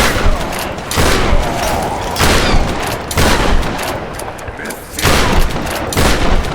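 Loud bursts of gunfire in the action game Tomb Raider come in repeated clusters of rapid shots with booming impacts, separated by brief lulls.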